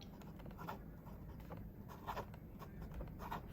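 A fountain pen with a solid gold Stipula stiff-flex nib scratches faintly across paper in short, irregular strokes over a quiet background hiss.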